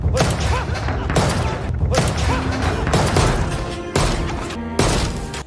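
Pistol shots in a gangster film scene, a series of heavy bangs and thuds spaced roughly every second over several seconds, loud and up close with a tense music bed underneath.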